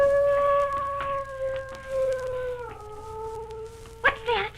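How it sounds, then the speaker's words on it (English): Dog howling down the street, a long sustained howl that slowly falls in pitch, moderately distant, with a brief rise near the end and a low background hum. "Probably a dog down the street howling."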